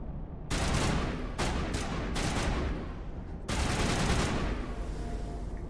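Bursts of rapid gunfire in the Mass Effect Legendary video game, loud and dense in several volleys separated by brief lulls, with no talk over it.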